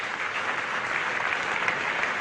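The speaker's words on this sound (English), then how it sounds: "A round of applause for John Snow for a piece of magnificent bowling." Steady, dense applause from a cricket crowd at an Ashes Test, clapping for fast bowler John Snow; broad and continuous from start to finish with no voices standing out.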